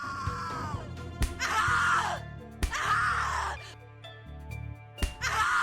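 A person screaming in the horror video game The Cat Lady: repeated anguished wailing screams come in several long bursts, each cut by sharp impacts, over a low droning musical backdrop.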